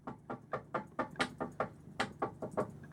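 A steady series of about a dozen firm knocks on a solid wooden door inside a 2003 Allegro Bay motorhome, evenly paced and fairly close, with no voices.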